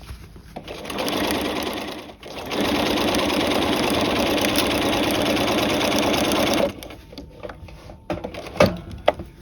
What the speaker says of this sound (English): Go back to the standard stitch length and sew the rest of the seam.